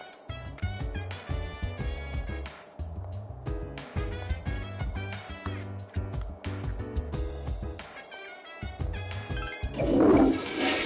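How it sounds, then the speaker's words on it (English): A toilet flushes indoors in a home, a brief surging rush of water near the end, heard under loud, continuous rhythmic game music. "Get that big flush."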